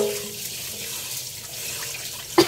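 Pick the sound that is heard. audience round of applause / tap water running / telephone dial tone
tap water running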